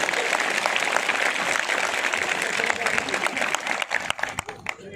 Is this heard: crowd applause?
yes